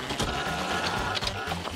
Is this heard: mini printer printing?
yes